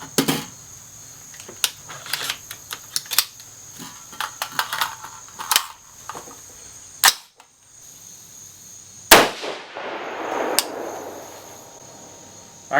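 A 6.5 Grendel rifle fires 123gr SST rounds outdoors at a range, heard as sharp cracks spaced irregularly among smaller clicks and handling noises, with a louder report near the middle followed by a fading wash.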